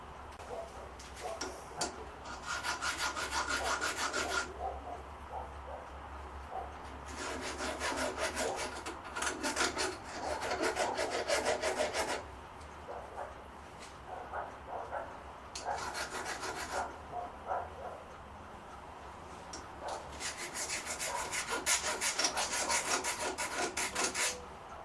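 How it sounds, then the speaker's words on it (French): Hand deburring of a small metal part turned on an OTMT lathe: bursts of dry scraping and rasping strokes come in several separate passes of a few seconds each, close and moderately quiet, with pauses between. "J'ai de la bavure à enlever."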